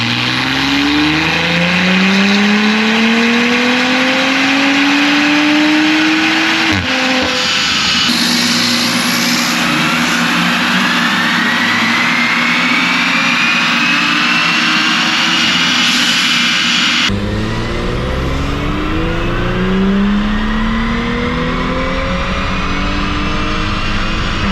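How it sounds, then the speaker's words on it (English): A stage 2 full bolt-on Audi B9 S4 with the stock turbo, running E85 and an Integrated Engineering tune, revs hard on a dyno: loud, sustained engine roar with rising pitch sweeps through the gears and short shift breaks, steady and close throughout. "Time to fire this off and see how much power we can make on this stock turbo stage 2 full bolt-on using E85"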